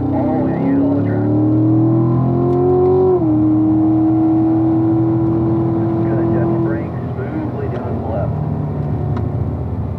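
A race car on a track holds a loud, steady engine tone as the driver squeezes on power, with the pitch rising and then sustaining while an instructor's voice talks over it.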